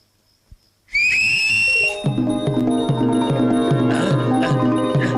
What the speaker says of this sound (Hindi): सीटी बजाने से वो नहीं आएगा।